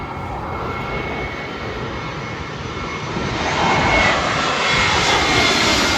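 A United Airlines Airbus A320 passes low overhead on its landing approach, a steady, loud broadband engine roar that swells in the second half as the jet comes nearest, heard from beside a fence near the runway.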